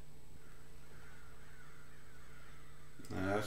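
A crow's harsh caw bursts out loudly and close at the very end of a quiet, humming stretch from a scene in The Last of Us, season 1 episode 8.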